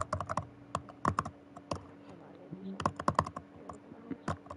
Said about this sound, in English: I'm typing it into my laptop right now